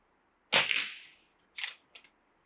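A single sharp crack from a Reximex Zone air rifle shot, close and loud with a short decaying tail, followed by two faint clicks, with no talk.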